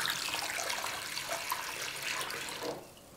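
Water from a jug poured onto a Redmi 10 Prime phone during a water test, a steady broadband splashing rush lasting about three seconds, then easing off near the end.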